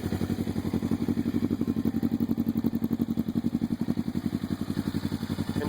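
Suzuki GS500F motorcycle engine fitted with dual Yoshimura TRS mufflers, idling steadily with an even, rapid thumping pulse at close range, loud and unbroken throughout with no talk.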